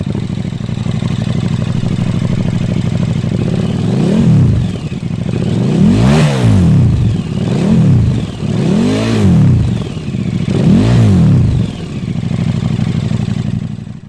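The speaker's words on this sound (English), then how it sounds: "Deep, throaty, growly, really, really nice." A KTM 1290 Superduke R motorcycle with Brembo brakes and an Akrapovic exhaust idles with a deep, throaty rumble, then gets revved in a series of sharp, growling blips, close and loud, with no talking.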